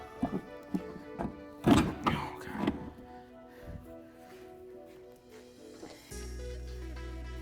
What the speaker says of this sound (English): Now we can throw our spare wheel and tire on the back, get those lug nuts torqued down